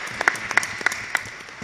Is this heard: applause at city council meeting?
yes